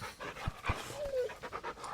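A puppy in a video game pants in quick soft breaths while being petted, close and moderately quiet, with a voice talking over it.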